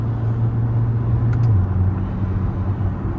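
A C8 Corvette engine drones steadily from inside the car on country roads, a low continuous rumble with a slight pitch drop partway through, loud and close with no speech.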